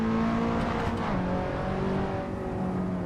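A race car in a sim racing game engine steady and loud, with the pitch dropping as it brakes for a corner, then holding at a lower drone.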